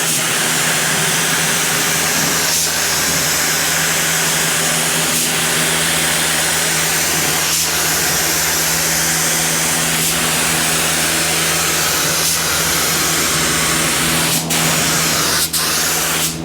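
A spray gun lays extra coats of paint over filler on the tops of a car's fenders, giving a loud, steady hiss close to the microphone with a few short breaks between passes and no talking.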